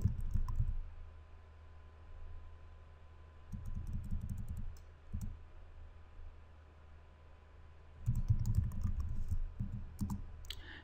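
Keys clatter in short bursts while someone types in the vi editor on a computer keyboard, soft clicking clusters separated by pauses, over a steady hiss and low hum.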